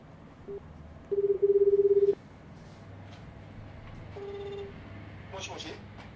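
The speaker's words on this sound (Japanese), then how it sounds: "今ちょっと電話するね" A telephone being dialed, with a few sharp dialing tones followed by a longer steady tone, then a ring on the line, mid-close and clear under low background noise during a radio program; people talk around it.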